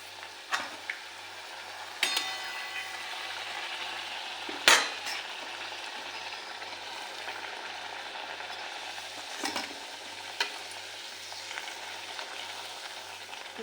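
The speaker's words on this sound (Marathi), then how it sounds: "असे तेलात तळून घ्यायचे." Dhapate, Maharashtrian flatbreads, frying in hot oil with a continuous dense sizzle, punctuated by a few sharp clanks and taps of a utensil against the pan; close, steady, no talking.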